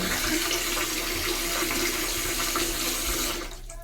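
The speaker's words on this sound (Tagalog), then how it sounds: "Isagad na natin yung ating napainit na tubig para sa pagpapaligo sa kanya." Warm heated water poured steadily for bathing a pet dog, a continuous loud splashing gush that holds for a few seconds and then tapers off at the end.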